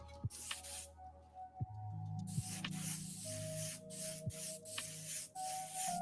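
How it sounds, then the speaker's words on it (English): Aerosol paint gives a few short hissing test bursts while a model aircraft cockpit is painted, crisp and close against quiet room sounds and a low hum. "Test spray, no problems."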